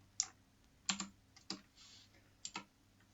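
Typing on a computer keyboard: a few sharp, quiet key clicks in small irregular clusters, heard alone and close up.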